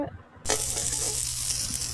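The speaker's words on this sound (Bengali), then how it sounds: "প্রথমে সবজিগুলো অল্প তেলে ভেজে নিতে হবে।" Vegetables drop into a little hot oil and break into a loud, sudden sizzle that holds steady and close after a brief quiet start.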